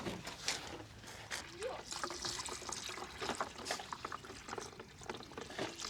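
Water poured into a container to fill it at a home construction site, a steady trickling, splashing flow running through the whole stretch with people talking over it.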